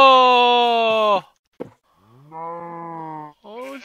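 Sheep in the Minecraft video game give two separate bleats, each a long wavering cry, close and loud, with a short gap between them and a brief clipped sound at the end.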